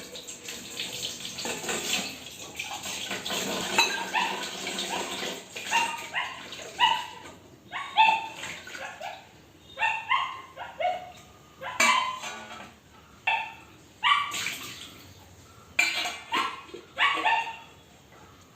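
A dog barks repeatedly in short bursts at a moderate distance, sharp separate yaps spaced through a quiet household background with running water faintly underneath.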